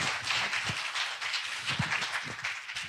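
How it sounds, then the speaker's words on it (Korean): Audience applause at a digital asset investment forum, welcoming a presenter to the stage: moderately loud, continuous clapping from a seated crowd, steady and unbroken with no speech over it. "여러분, 송인규 대표이사님을 큰 박수로 환영해 주시기 바랍니다"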